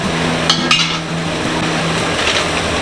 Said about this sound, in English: Pull that pot out of the way. Put our other pot back on.